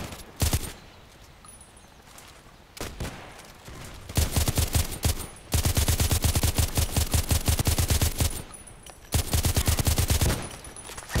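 Gunfire in the online shooter Contract Wars comes as loud, rapid automatic bursts: a few single shots early, then long sustained rattling volleys with a short pause between them.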